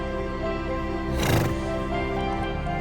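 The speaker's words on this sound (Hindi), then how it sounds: "ये भी है घोड़ी जो आप देख रहे हैं मेरे सामने, ये भी जाफर की बच्ची है।" A mare with her foal gives a short whinny partway through, rising briefly over a steady droning background.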